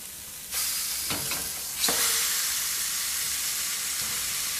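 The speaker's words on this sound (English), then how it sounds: "Now these are thick rashers, and we will cook them for again a minute and a half" Thick bacon rashers sizzle on the flat plates of a contact grill in a broadband frying hiss that jumps up as the meat goes down, with a second louder surge partway through, then holds steady and close.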